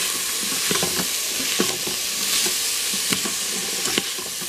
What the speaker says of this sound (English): and then I'm going to add my turkey.